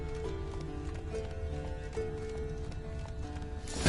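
Horse hooves clip-clop at a steady rhythm in The Witcher 3: Wild Hunt, moderately close under a dense bed of game music and ambience, with a faint whinny-like touch near the end.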